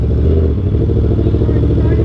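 Yamaha R1M motorcycle ridden at steady speed, with a loud, continuous low engine drone and wind rumble close to the mic throughout.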